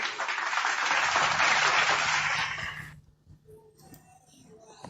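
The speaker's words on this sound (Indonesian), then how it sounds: "Tepuk tangan dulu buat saudara Sweet" Audience applause at a cross-religion debate: dense, loud clapping sustained for about three seconds, then dropping off quickly into quieter room noise.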